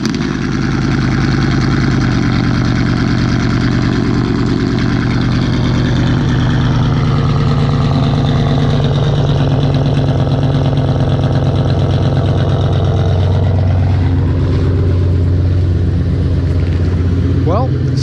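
A Pontiac Grand Prix GXP, roughly $5,000 worth, remote-starts in -13 degree cold and settles into a steady idle. A strong low engine drone holds throughout with slight hesitation, while a voice talks over it.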